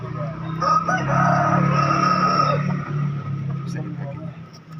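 A rooster crows amid clucking chickens at a chicken market in Makassar, Indonesia, with people talking and general market bustle around them.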